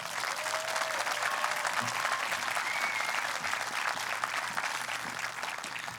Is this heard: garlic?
no